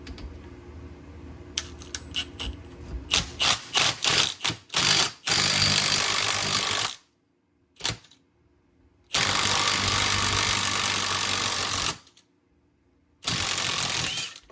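An impact wrench removes a power steering pulley bolt with a few short rattling bursts, then long loud sustained hammering runs separated by sudden silent gaps, close and alone.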